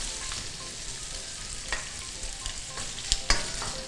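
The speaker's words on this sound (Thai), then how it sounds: "อันนี้ผัดเบคอนให้สุกค่ะ เมื่อเบคอนเริ่มสุกแล้วนะคะใส่แครอทลงไป" Bacon and carrot stir-fry in a pan for yaki udon, a soft steady sizzle broken by sharp scraping clicks of a utensil against the pan, growing busier toward the end.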